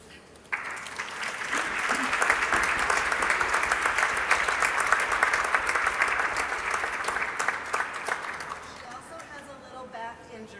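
An audience breaks into warm, sustained applause welcoming a speaker to the podium, steady clapping swelling quickly and holding for about eight seconds before tapering off.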